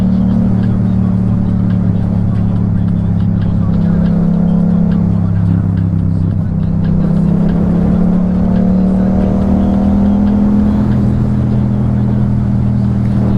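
A Yamaha MT-07 motorcycle engine drones loudly and steadily during a ride, with its pitch rising as it is revved during wheelies.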